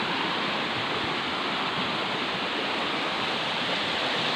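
Strong floodwater rushing past in a flood, a loud, steady roar of churning water that holds constant throughout with no pauses.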